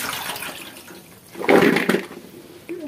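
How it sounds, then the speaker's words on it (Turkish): Water being poured out of a pot of plums in a home kitchen, a brief rushing splash that swells and then fades, close and clear, without voices. "Dökelim tekrar suyunu."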